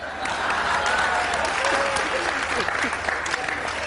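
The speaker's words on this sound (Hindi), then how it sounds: "अर्चना के लिए तालियां।" A studio audience on a Hindi reality courtroom show applauds a woman named Archana, a dense burst of clapping that rises quickly and holds steady, with faint voices mixed in.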